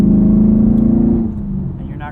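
A performance car's engine pulled hard at full throttle, giving a loud, steady low drone that rises slightly in pitch and then eases off after about a second, with a brief voice at the end.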